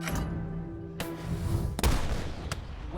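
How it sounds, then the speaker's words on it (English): British cannon open a bombardment of the fort at Detroit: several deep booms and sharp reports, one about every second, over a rumbling background, with no voices. "The British gave notice that they would commence a bombardment of Detroit."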